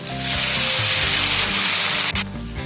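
Three medium sliced onions hit hot oil already holding a cinnamon stick, erupting into a loud, continuous frying sizzle close up that dips briefly near the end before settling back down.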